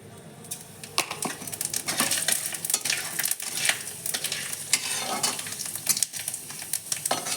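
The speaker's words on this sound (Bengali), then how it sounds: "পাঁচ ফোড়নটা একটু লাল লাল করে ভেজে নেব।" Panch phoron spices with bay leaves and a dried red chilli fry in hot oil, crackling and popping in quick irregular bursts over a close, steady sizzle.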